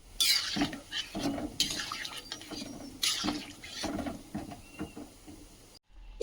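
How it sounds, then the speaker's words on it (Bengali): Dal is tipped into a cooking pot with a run of pouring, splashing and clattering against metal, then quieter stirring and scraping follow, close and fairly loud throughout. "এবার ডালটা দিয়ে দেবো"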